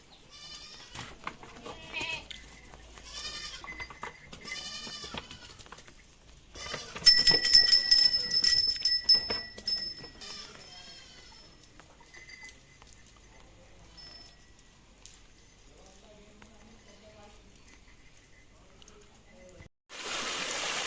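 Village goats bleat repeatedly, frightened of water, several calls overlapping near and far, with a loud burst of bleating midway and faint bells and running water behind.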